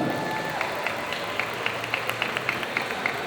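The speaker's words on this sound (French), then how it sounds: "On peut l'applaudir s'il vous plaît, Dominique Poulain." An audience at a solo cosplay contest at the Perigeekasia 2022 convention applauds, with scattered, fairly regular claps rising from a dense hall murmur at moderate distance.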